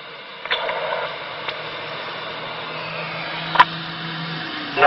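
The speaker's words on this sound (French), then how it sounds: "C'est le ventilo de la lime qu'on entend." A steady, even whir of a small power supply cooling fan with a faint hiss, running continuously with a few light clicks.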